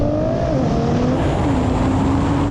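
A Porsche 911 Turbo S, BMW M8 and Nissan GT-R drag race with a loud, steady engine roar and a droning tone that holds and shifts pitch throughout, with no talk.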